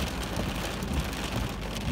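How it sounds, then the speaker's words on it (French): Dense, steady pattering of hail striking surfaces nearby during a thunderstorm in Isère, France, a continuous noisy roar without talking. "deuxième orage de grêle"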